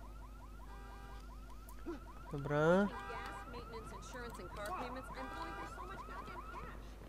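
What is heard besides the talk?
car alarm going off in the video game Watch Dogs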